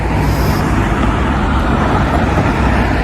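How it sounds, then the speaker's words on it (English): A car turns into a petrol station at night, its engine and tyre noise a steady, loud roadway rumble that fills the scene with no voices. "Let this vehicle turn into the petrol station here."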